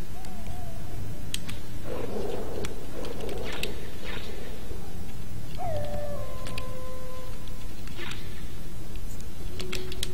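Guard dogs in the video game Metal Gear Solid howl and whimper in drawn-out, wavering cries, broken up by sharp clicks and game sound effects, with a couple of separate howls rising and falling.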